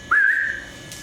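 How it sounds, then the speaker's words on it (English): One short, bright whistle rises slightly and holds for about half a second before fading. It is loud and clear against a quiet outdoor background. "Oh, you can hear whistles."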